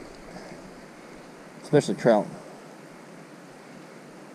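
Rushing water from a creek in North Carolina flows as a steady, even broadband hiss throughout, with a person briefly speaking over it midway.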